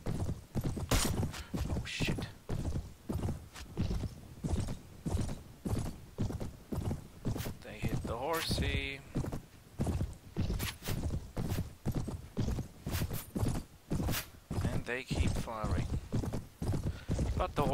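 Horse hooves in the medieval battle game Mount & Blade, a steady run of clip-clop beats with an occasional whinny, under nearly constant talking.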